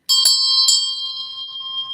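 A bell rings sharply twice near the start, then its bright tone lingers and slowly fades, loud and clear with no talk over it.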